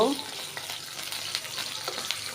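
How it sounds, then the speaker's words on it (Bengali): Onions, with garlic, sizzle steadily in hot oil while a utensil scrapes and stirs around the pan, lightly frying them, at close range. "এগুলো আমি একটু লাড়াচাড়া দিয়ে একটু হালকা ভাজা ভাজা করে নিব"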